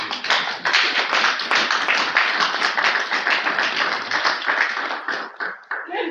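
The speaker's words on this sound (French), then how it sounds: "Acclamons." Congregation clapping at a funeral service in Frankfurt, a dense burst of many hands applauding steadily for several seconds, close and loud, tapering slightly at the end.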